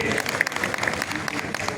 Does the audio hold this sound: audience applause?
yes